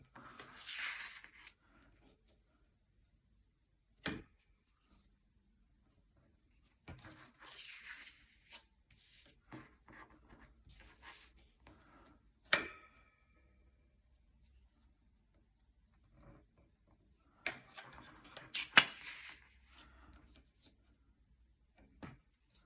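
Pen or pencil marking lines and dots on paper for a Christmas decoration, faint scratchy strokes and light taps in short scattered bursts separated by quiet pauses.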